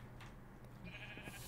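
Sheep bleating in Minecraft, quiet short calls over a steady low game hum with no talking.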